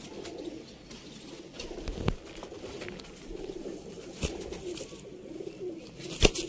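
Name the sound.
pigeons cooing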